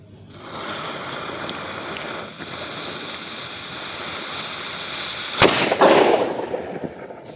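A single sharp bang from a firecracker planted in mud goes off over steady outdoor background noise, followed by a short crackling, hissing tail.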